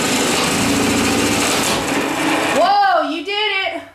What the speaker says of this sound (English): we're fixing to drill through the wall, and Randy's over here, and we found a hole